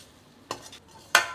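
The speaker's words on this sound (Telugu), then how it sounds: "దీనిలో కట్ చేసి పెట్టుకున్న కొత్తిమీర, పుదీనా కూడా వేసుకొని బాగా కలిపేసుకోవాలి." Spicy chicken roast with chopped coriander and mint being stirred in a pan, two brief scraping strokes of a utensil, the second louder, with quiet pauses around them.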